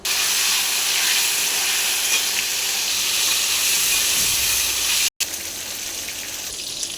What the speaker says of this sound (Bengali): এবার বেগুনগুলোকেও ভেজে নেব